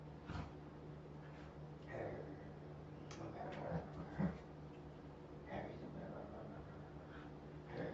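A puppy snorts and gives soft whimpers in short bursts, faint and close, with a person's voice murmuring quietly in the background.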